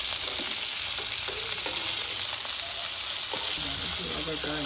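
Baby surmai fish sizzle on a hot pan in a dense, steady crackling hiss, with light scrapes and knocks as the pieces are flipped; close, loud and continuous.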